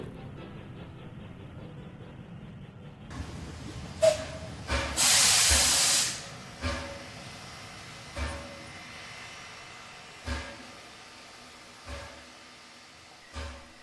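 A steam train idles with a loud burst of hissing steam, followed by periodic chuffs and clanks at a steady pace; no talking.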